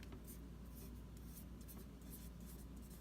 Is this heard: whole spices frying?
no